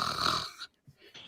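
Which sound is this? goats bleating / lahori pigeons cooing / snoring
snoring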